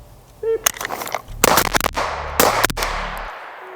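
Bushmaster ACR rifle firing a few sharp, loud shots in quick bursts, close by, each report ringing with a short echoing tail.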